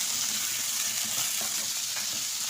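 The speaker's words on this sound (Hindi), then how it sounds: "इनको हम फ्राई करेंगे इसमें।" Large turnip pieces frying in oil with ginger and slit green chillies, a loud, continuous close sizzle with faint stirring movements underneath, no voices.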